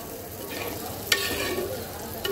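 Koi fish curry with potato, cauliflower and peas stirred in a pan, a soft sizzle beneath gentle scraping, with a couple of sharper clinks of the spoon.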